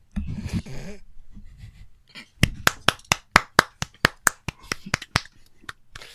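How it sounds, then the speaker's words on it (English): A short, soft golf clap of about fifteen quick, sharp claps in an even rhythm follows a brief vocal sound and breathing. "Golf clap."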